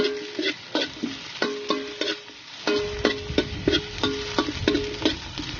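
Garlic and onion, added with ginger for a chicken soup, sauté in a pot, stirred in a brisk rhythm of repeated scrapes and clacks over a rising sizzle, close up.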